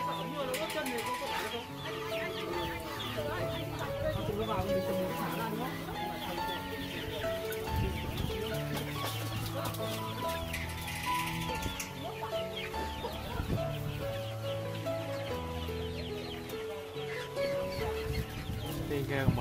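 Purebred Mía chickens clucking in a coop on a farm, many overlapping clucks and calls continuing steadily at moderate volume, with a few voices in the background.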